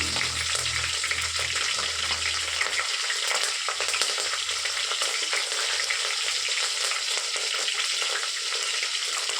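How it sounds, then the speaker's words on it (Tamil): Chopped green chillies frying in hot oil with mustard seeds and dal, a loud, steady, dense sizzle with crackling pops throughout and brief low stirring sounds near the start. "ஒரு 3 பச்சை மிளகாய் கட் பண்ணி வச்சுருக்கேன், அதை சேர்த்துக்கிட்டேன்"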